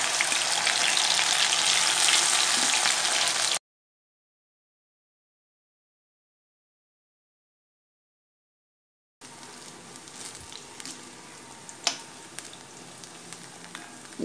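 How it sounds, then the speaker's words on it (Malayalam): Soya chunks deep-fry in hot oil in a kadai, giving a dense, steady sizzle that cuts off into silence, then returns as a quieter bubbling fry with scattered pops. "ഇനി ഇതിപ്പം കുറച്ച് കുറച്ചായിട്ട് ഇട്ടിട്ടങ്ങ് പൊരിച്ചെടുക്കാം"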